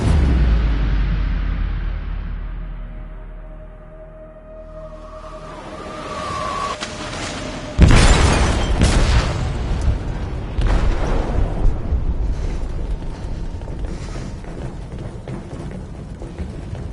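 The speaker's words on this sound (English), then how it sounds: "They detonated an explosive in the hold." A deep explosion goes off inside a ship's hold in a video game. A low rumble swells, then a sharp loud blast gives way to sustained crackling and roaring debris.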